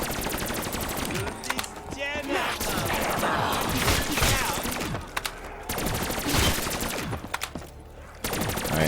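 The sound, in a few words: gunfire emptying ammo in Black Ops 3 Zombies video game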